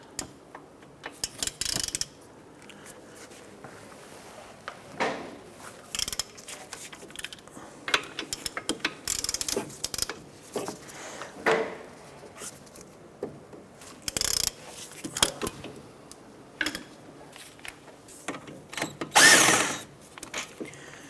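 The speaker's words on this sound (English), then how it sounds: "Using a 15mm socket, we're going to go ahead and remove our two caliper bracket bolts." Ratchet wrench with a 15mm socket loosening the two brake caliper bracket bolts on a 2006-2013 Chevrolet Impala, heard as repeated close clicking bursts in short runs with brief pauses and no talk.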